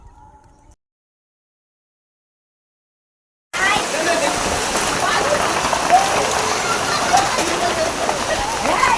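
Heavy rain during a hailstorm, pouring steadily onto a house roof, bursts in loud and dense after a few seconds of near silence and keeps drumming without letting up.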